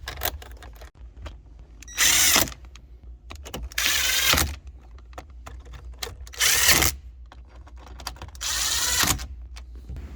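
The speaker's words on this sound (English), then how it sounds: "And you can go ahead and reinstall the 4 bolts that we removed when we pulled the radio" Four bursts of a power drill driving bolts back into a 5th gen Toyota 4Runner dash, each whir lasting about half a second to a second, separated by quieter clicks and handling noise.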